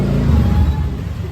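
A Kawasaki ZX6R motorcycle engine in a garage gives a steady, loud, low rumbling idle that stays close and continuous without distinct revs.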